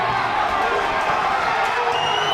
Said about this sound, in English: Crowd's getting excited here